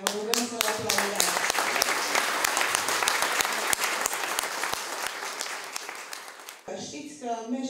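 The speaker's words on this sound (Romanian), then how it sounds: "Vă rugăm să-l aplaudeați." An audience applauds a surgeon at the launch of a medical book, with dense, steady clapping that holds for about seven seconds before a voice begins speaking near the end.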